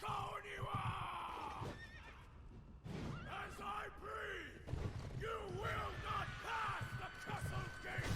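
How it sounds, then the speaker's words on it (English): Horse neighs and whinnies with hoofbeats during a horseback samurai boss fight in Sekiro, mixed with battle cries and music; repeated loud neighs come in bursts across the stretch, with a brief dip near the middle. "Yobu Oniwa is going to be the first ever horse combat boss in a Fromsoftware game"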